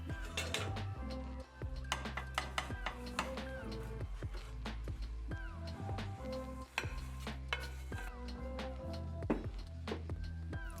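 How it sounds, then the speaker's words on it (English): A vegan quesadilla cooking in a pan gives a steady sizzle, with spatula scrapes and clinks of utensils against the pan on top. "I then transfer the quesadilla to a pan and cook it on both sides."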